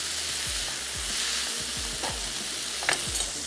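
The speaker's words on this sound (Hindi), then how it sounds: "थोड़ा सा सौते करते हैं, लास्ट में ऐड कर देंगे चीज़।" A cheese pasta filling mixture with red chilies sautéing in a pan, a loud steady frying hiss broken by repeated scraping stirs of a spatula, close and continuous with no voices.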